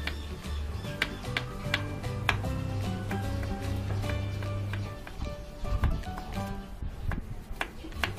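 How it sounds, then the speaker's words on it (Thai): Knife chopping chili and garlic on a cutting board for a seafood dipping sauce, a brisk run of sharp, fairly close taps at an uneven rhythm over a low background hum. "แล้วเราก็หั่นพริกหั่นกระเทียมใส่แค่นั้นเอง"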